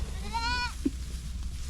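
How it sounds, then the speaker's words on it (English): A goat on a homestead gives one clear wavering bleat, close and moderately loud, over a low steady background rumble, followed by a brief soft grunt. "One of our goats"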